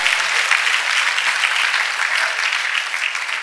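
Church congregation clapping for Jesus, a dense, steady wash of many hands, fairly loud and continuous throughout with no voices standing out.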